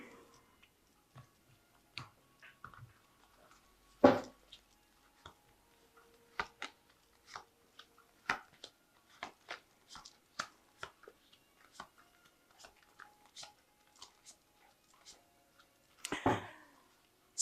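Soft, scattered taps and clicks of a tarot deck being cut and handled, irregular and close, with a couple of louder shuffling bursts and quiet pauses between.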